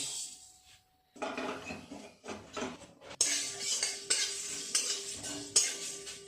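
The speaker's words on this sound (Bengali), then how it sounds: "এই মশলাটাকে শুকনো খোলায় ভেজে গুঁড়ো করে নেব" Whole coriander, cumin, cinnamon, cardamom and dried red chillies dry-roasting in a hot pan, stirred with rattling, scraping strokes and clinks, close and moderately quiet, a faint tone at the start.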